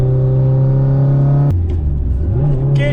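A turbocharged Subaru Outback XT with a flat-four engine revs close by, holding a loud steady hum before the note drops sharply and then climbs again.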